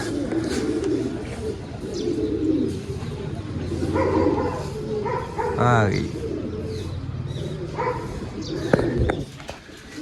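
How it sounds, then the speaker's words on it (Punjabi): Pigeons, among them a black-crested bird and a red-necked one, flying about and settling on a perch, give soft coos and calls close by beneath steady talking, with a short rippling flutter partway through. "ਉਹ ਕਬੂਤਰ ਉਧਰ ਹੀ ਫਿਰਦੇ"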